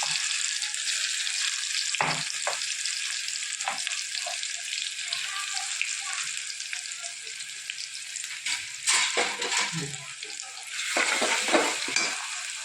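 Onion, tomato, green chilies and garlic sautéing in a mix of oil and ghee with cumin, a steady bright sizzle with occasional stirring scrapes and clinks, close and continuous without talk.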